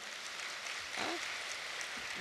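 An audience claps briefly at a spiritual meditation class, a short burst of applause mixed with a murmur of voices.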